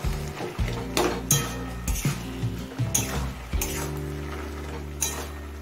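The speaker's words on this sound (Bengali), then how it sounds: "এবার শাকটা একটু নাড়াচাড়া করে নিচ্ছি।" Cooked kalmi greens with vegetables being stirred in a pan: a spoon clinks and scrapes against the metal in a loose, uneven rhythm, close by, with a faint sizzle underneath.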